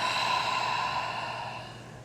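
A steady, breathy exhale during a power yoga flow, a soft airy rush that holds for about two seconds and slowly tapers off, close to the microphone with no talking.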